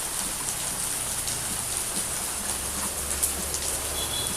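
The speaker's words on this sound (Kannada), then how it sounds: "ಇಲ್ಲಿ ಮಳೆ ಹೆಂಗೆ ಬರೋಕಾಗೈತಪ್ಪ" Heavy rain pours down steadily in a close, dense, even wash of noise that continues without a break and with no voices.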